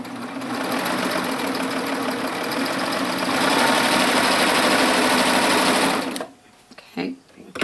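A sewing machine stitches a quarter-inch seam straight across folded fabric for a Grainline Studio Lark Tee, whirring loud and steady for about six seconds before stopping, followed by a few faint handling sounds.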